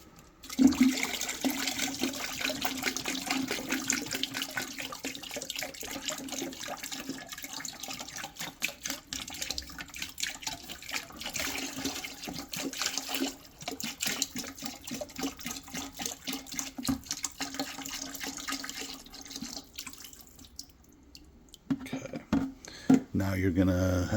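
Tankless water heater descaler is poured steadily into a plastic bucket, giving a continuous close splashing pour that lasts about twenty seconds.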